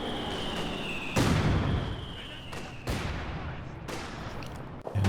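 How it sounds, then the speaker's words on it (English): Mortar and gunfire in a WWII strategy game, several sharp explosive impacts at irregular intervals with rumbling decay, a steady tone running underneath, and a voice talking over the battle. "the mortar pit returning fire does force off Luvnest mortar now"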